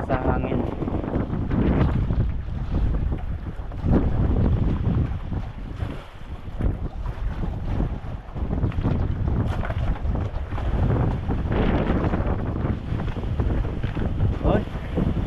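Steady wind rushes past a small sailing boat, with the roar of wind on the microphone and water washing against the hull, loud and continuous with slight swells in intensity.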